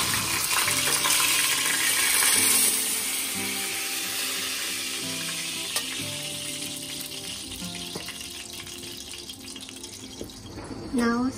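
Fish frying in hot oil in a pan, a broad continuous sizzle with bubbling crackle, strongest at the start and gradually settling, with a brief clatter near the end.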